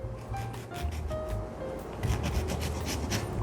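A knife slicing a lemon lengthwise into wedges for a whisky cocktail garnish at home, with soft close rubbing and cutting strokes on a board under a low, steady background hum; no speech.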